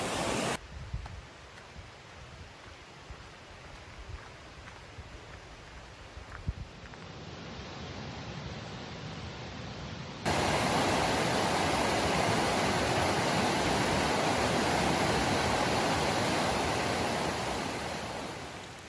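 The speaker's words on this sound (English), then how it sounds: "This is creek here." Creek water flowing along a backroad, a broad rushing wash that starts softer and then swells louder and closer partway through, holding steady before easing slightly at the end, with no talking.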